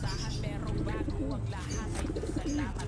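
Pigeons coo softly over a steady background hum, with several low warbling calls overlapping close by.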